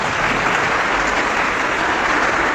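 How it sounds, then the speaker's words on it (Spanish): A church audience at Iglesia Dios de la Profecía Universal claps for a visiting pastor during a religious debate: dense, steady, close applause that fills the whole stretch without pause. "Un aplauso para el hermano."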